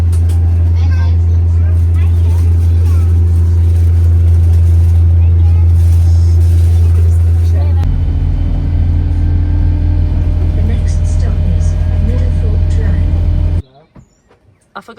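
Inside a moving bus, a loud, deep engine rumble and road drone fill the cabin steadily, shifting in tone partway through as the vehicle changes gear or speed, then cutting off abruptly near the end.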